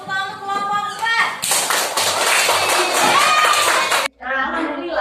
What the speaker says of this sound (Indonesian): Kasih tepuk tangan untuk kelompok 4.